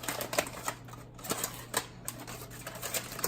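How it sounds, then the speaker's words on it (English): Aluminium foil is peeled open from a rested pulled pork shoulder, giving quiet, irregular crinkling and crackling taps in short bursts against a faint steady hum. "we're going to open up the foil and see what she looks like"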